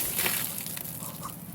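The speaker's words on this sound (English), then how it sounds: "I just got drenched by the waterfall." Water from a waterfall in Shenandoah National Park splashes and sloshes close by, a steady broadband rush with no voices over it.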